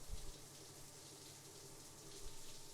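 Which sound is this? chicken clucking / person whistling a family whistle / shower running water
shower running water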